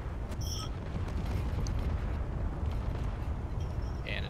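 Rocket fire and explosions in a Space Engineers server battle: a steady, heavy low rumble with faint scattered pops and crackles, somewhat distant, with no talking.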